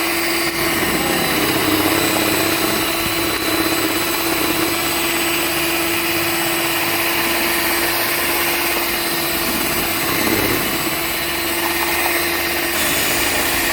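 An electric mixer beating fruitcake batter as flour is slowly added, a steady close whirring motor hum with a sustained tonal whine and no pauses throughout.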